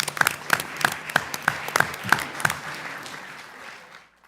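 Sparse applause at a board of trustees meeting: about eight distinct, evenly spaced claps from nearby, fading out into quiet at the end.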